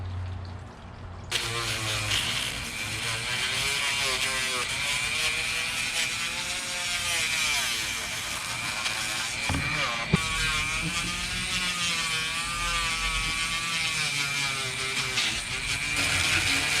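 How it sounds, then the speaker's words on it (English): A Dremel-type rotary tool whines steadily while its worn sanding disc grinds against a wood carving, a continuous high buzz with shifting pitch, briefly interrupted partway through. "I'm gonna use my little sanding disc."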